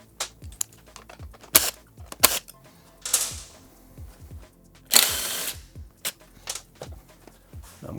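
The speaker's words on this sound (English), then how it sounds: "Let's grab a 5mm Allen and remove the tank bracket from the subframe" A 5mm Allen key works on a motorcycle fuel tank bracket on the subframe of a Suzuki GSX-8S, giving sharp ratcheting clicks and small metallic clatters in irregular bursts, close and fairly quiet, with no talking.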